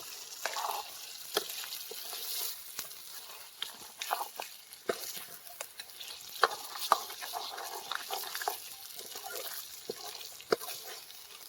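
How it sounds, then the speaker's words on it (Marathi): Crabs fry in masala outdoors, making a faint, steady sizzle broken by scattered clicks and scrapes of stirring. "एकदम मस्त फ्राय करायचं काम चालू आहे तर जे काय मसाला आहे त्याच्यामध्ये खेकडी टाकले आहे"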